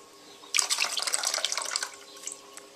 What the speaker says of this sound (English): So now there's quite a bit of water in the bottom there, which I need to mop out now.